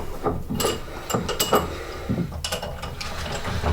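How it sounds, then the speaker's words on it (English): Jaws of a Bench Crafted Moxon vice, fitted with springs, washers and nuts, slide in and out, giving a few close mechanical clicks and ratcheting rattles with brief metallic knocks. "So it slides in smoothly, and then when you want to come out again, the jaws come back out again."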